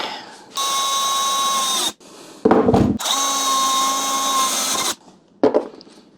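Power drill driving screws into wood during a honey extraction equipment build, with two long steady whirring runs and a short final burst, each stopping abruptly between them.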